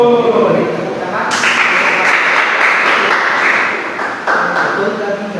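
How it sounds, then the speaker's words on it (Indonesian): A class of ninth-grade students at an Islamic junior high school breaks into clapping a little over a second in. The applause is broad and lasts several seconds, with voices mixed in. "Tepuk tangan"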